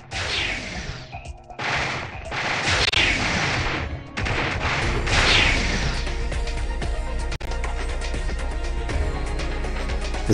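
Bursts of rapid blaster and gunfire from the spaceship video game Star Chindy, dense and loud, with crashes and explosions over a low droning engine hum.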